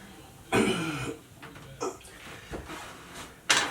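A small Kobalt mini toolbox drawer slides open and shut in a few short, close scraping bursts with quiet pauses between them.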